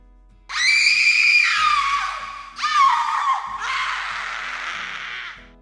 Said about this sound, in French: réveillée par les échos des cris